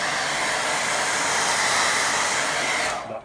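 A hair dryer blows in short bursts onto wet watercolour paint, a steady close, loud rushing whoosh that runs for about three seconds and then cuts off.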